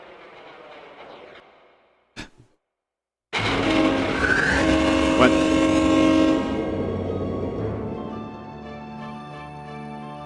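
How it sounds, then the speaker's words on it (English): Train in the video game OverBlood 2: after a short voice, a loud rumbling roar with a sustained horn-like tone starts abruptly and holds for several seconds, then settles into a lower ongoing hum. "Did that train just start flying?"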